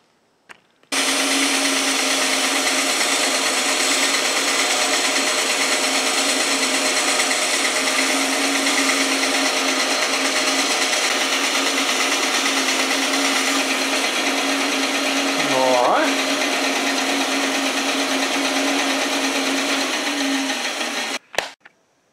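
Flatbed belt sander running steadily for about twenty seconds, sanding a homemade Model 1777 French flintlock hunting musket held in a wooden jig; a loud continuous motor whine and belt hiss, starting and stopping abruptly, with no talk.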